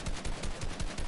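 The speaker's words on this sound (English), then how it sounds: "More shooting." Gunfire in the video game Fortnite, a quick burst of several rapid shots in uneven rhythm, fairly faint and brief, with no talking.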